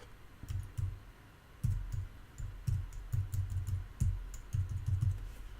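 Fingers tapping number keys on a computer keyboard, soft quick clicks in short bursts of three or four, close and fairly quiet over a low room hum.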